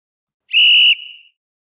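A single sharp, high-pitched whistle blast at a game's start of the third quarter, loud and close, lasting about half a second before trailing off into a softer tail.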